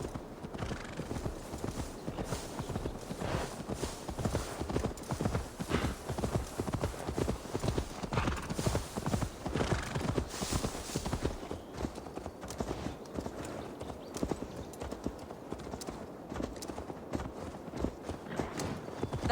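Horse hooves clip-clop in a steady, continuous walking rhythm in Assassin's Creed Valhalla, close and clear, with an occasional whinny mixed in and no talking.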